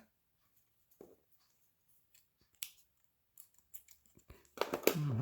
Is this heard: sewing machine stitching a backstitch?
no